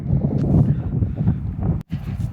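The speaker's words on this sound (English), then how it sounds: "So it is quite a windy day here. So if there's any wind noise, I apologize." Steady low rumbling wind buffeting a microphone outdoors on a mountain hike, broken by a brief silent dropout near the end.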